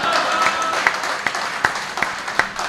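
Applause from an audience at a Hindi comedy show, a dense wash of clapping with several sharper individual claps standing out at a roughly regular pace.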